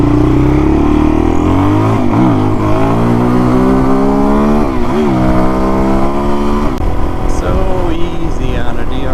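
A Suzuki DRZ dirt bike fitted with an FCR39 clone carburetor is revved hard in second gear to lift into a wheelie, its loud, close engine note climbing in repeated rising sweeps with brief drops between pulls.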